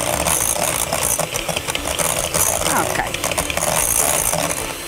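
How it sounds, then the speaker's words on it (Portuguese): An electric mixer beats requeijão cheese in a kitchen, giving a loud, steady whir with rattling that runs through the whole stretch without a break. "Pronto, já não vamos necessitar mais da batedeira."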